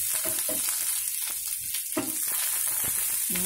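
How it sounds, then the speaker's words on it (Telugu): Coriander and curry leaves fry in hot oil alongside fish, giving a loud, continuous hiss and sizzle with spatters and stirring clatter close by. "కొత్తిమీర కరివేపాకు ఇలా వేసుకొని వేయించుకోవాలి."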